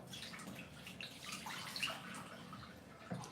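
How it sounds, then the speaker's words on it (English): Water being added to meat cooking in a pot, a quiet, steady splashing and trickling with a few small drips and gurgles, close by and with no talking. "add some water to the meat"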